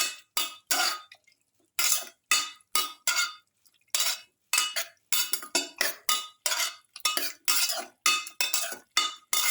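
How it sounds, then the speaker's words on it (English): A spoon stirs beef pieces with pepper, garlic and carrot in a metal pot in repeated quick scraping, clinking strokes, close and steady with brief pauses between bursts. "Until all the ingredients are nicely mixed with the beef pieces."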